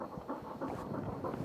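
A gun dog pants close by in quick, rhythmic breaths, steady and alone.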